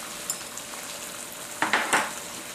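Green onions frying in a pan with orange salmon, garlic and ginger, a soft steady sizzle under a few quick scrapes and clinks of a utensil against the pan near the end.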